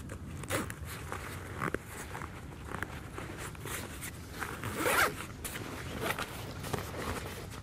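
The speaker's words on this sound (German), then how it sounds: "Zippen den dann genauso wie den Little Brother hier fest." A zipper is drawn closed on an Eberlestock backpack carrier frame in a series of short, close, scratchy pulls mixed with light handling and rustling of the pack.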